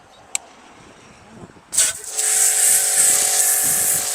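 A Masaru Sprin24 400 bar pressure washer starts up and sprays a car wheel, giving a loud, steady, high-pitched hissing spray with a constant motor whine underneath after a quiet start and a brief click.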